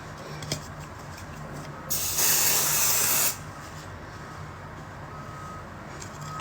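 Hair spray from an aerosol can lets out a single loud, close hiss lasting just over a second onto tied-up hair, with quiet room tone before and after.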